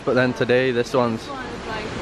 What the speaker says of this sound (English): That was also the biggest waterfall I've ever seen at 75 meters high.